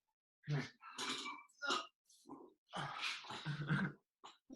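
A dog named Strictly makes a close series of short whimpers and throaty grunts in uneven bursts, with brief pauses between them.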